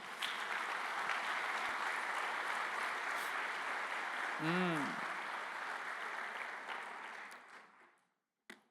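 A church congregation applauds during a sermon, a steady, full wash of clapping that runs several seconds with a short vocal cry in the middle, then fades out.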